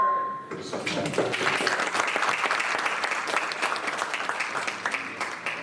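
Steady audience applause at an evening band concert, a dense wash of many hands clapping that starts abruptly and holds at an even level throughout, fairly close and continuous.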